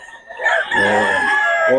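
Roosters crow in a short loud burst, several calls overlapping at close range with faint clucking beneath, among a breeder's fighting cocks.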